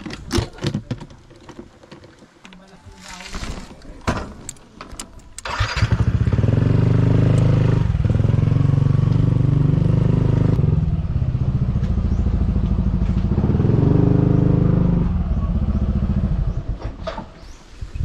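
A motorcycle engine turns over at about five seconds and settles into a loud, steady idle that runs near and continuous, with light clatter and tapping before it starts.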